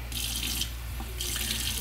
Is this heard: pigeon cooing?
no